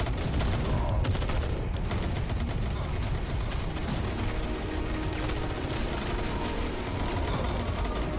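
Dense, continuous gunfire from a game trailer for Dysterra, loud bursts and fusillades over engine and mechanical noise, with voices faintly underneath.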